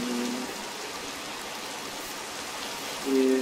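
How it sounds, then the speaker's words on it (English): Steady rain falls in a Minecraft world, a continuous even hiss of rainfall throughout with a brief tonal in-game sound near the start and end. "Here comes the rain."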